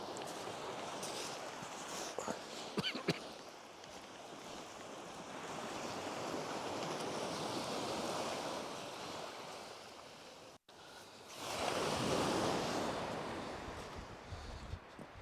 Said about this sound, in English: Just that poxy east wind though.